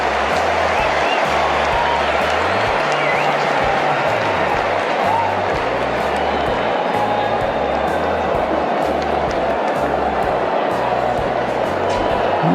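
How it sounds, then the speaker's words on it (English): A packed cricket stadium roars with continuous yelling and cheering during a super over between Australia and New Zealand, a dense, loud wall of crowd noise that never lets up. "You're wondering what all the yelling's about."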